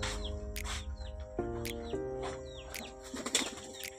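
A racing pigeon enters its loft with quick bursts of wing flapping, close by, among scattered coos and faint chirps and a few knocks.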